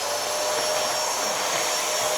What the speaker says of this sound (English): I'll start up the vacuum so you guys can hear the sound.